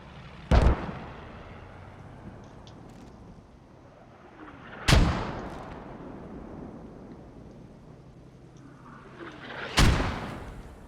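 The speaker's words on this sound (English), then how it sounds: "Firing mortars out." Mortars firing in the World War II shooter Post Scriptum: three heavy booming launches spaced several seconds apart, each followed by a rolling decay over a steady low battlefield ambience.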